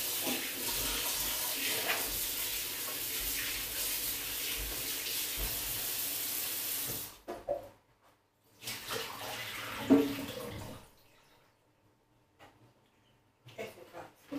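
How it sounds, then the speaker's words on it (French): Tap water pours steadily and close by into washed cauliflower for about seven seconds, followed by quieter splashes and handling sounds, with no talking. "Donc je vais maintenant ajouter de l'eau."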